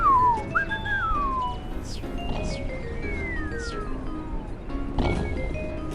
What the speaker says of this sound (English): Sounds like someone whistling actually.